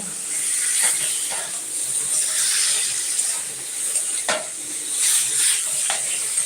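Spice paste fries with goat fat in a pan for a bottle gourd curry, giving a continuous hissing sizzle up close with intermittent stirring scrapes and no voices over it.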